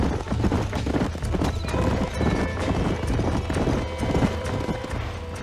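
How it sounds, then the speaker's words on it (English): Several horses' hooves clip-clop in a steady, overlapping trot in the video game Red Dead Redemption, fairly close and continuous, with an occasional whinny and faint background clatter. "These are fine horses."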